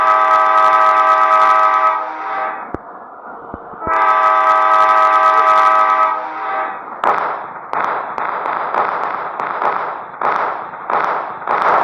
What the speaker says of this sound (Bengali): আমরা চালাবো ট্রেন।